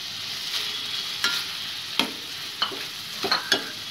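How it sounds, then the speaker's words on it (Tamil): Cooked beetroot poriyal with grated coconut stirred in a pan, a steady close sizzle punctuated by several sharp scraping taps of the spoon, with no voices. "இதை நல்லா கிளறிக்கோங்க."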